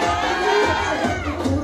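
A loud crowd of guests at a Turkish henna night shouts together in unison, a dense wall of overlapping voices sustained for under two seconds.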